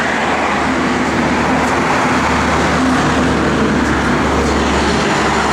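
A 1969 Plymouth Road Runner with aluminum heads runs after starting, a loud, steady low rumble from the engine that drones evenly throughout.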